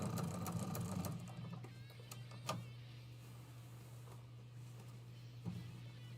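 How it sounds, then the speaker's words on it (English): A sewing machine stitches in the ditch with white thread, a quiet, steady motor hum with a busier run of stitching at the start and a couple of soft clicks later. "we're just gonna stitch in the ditch here"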